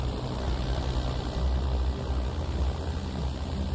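Steady, loud drone of a small airplane's propeller engine during takeoff for a skydiving jump, a constant low rumble filling the whole stretch with no voices.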